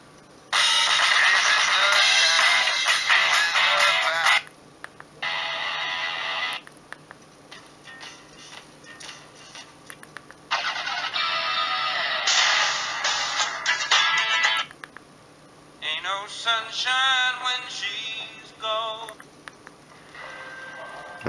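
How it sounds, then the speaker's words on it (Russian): Several ringtones played back one after another from a Sony Ericsson J108i Cedar phone's small speaker, each a bright tinny melody lasting a few seconds, separated by short quiet gaps. "есть некоторые рингтоны, которые, собственно, дядей моим еще были установлены"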